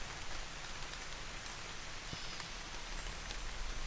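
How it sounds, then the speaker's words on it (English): Light rain patters steadily outdoors around a deer hunting stand, a dense, even hiss of drops with no voices. "The rain let up while I was walking in, but it just started back a little bit. It's a little sprinkle"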